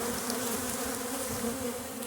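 Honey bees swarm around an open hive frame during queen rearing, a dense, steady buzz of many insects close by, continuous and unbroken with no voices.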